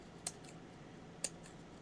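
Scissors snip through a thick stack of 12 x 12 craft paper, giving two short, crisp cuts about a second apart against a quiet room.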